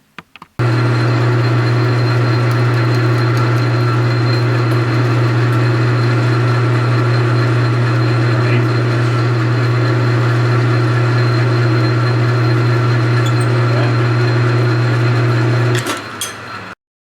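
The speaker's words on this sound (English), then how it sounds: "move you over to the lathe and" A metal lathe in a home workshop runs at a steady hum with a strong low drone for about fifteen seconds and then spins down near the end. No one speaks.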